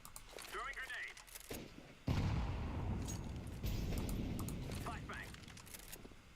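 A grenade blast and gunfire from the video game Counter-Strike 2 sound in rapid bursts of sharp shots, then a heavy boom with rumbling decay, loud and close, alongside faint game voice lines.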